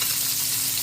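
Catfish frying in a pan gives a steady, loud, dense sizzle that holds without a break from start to finish, with no voices.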